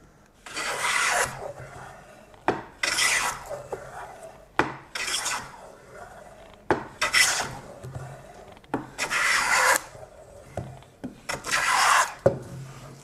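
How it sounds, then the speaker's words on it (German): A wooden hand plane shaving a board, repeated long rasping strokes about a second each, separated by brief pauses and knocks as the plane is lifted and reset, close and loud. "ihr hört jetzt auch vom Hobelgeräusch her, dass wir doch echt relativ gerade sind"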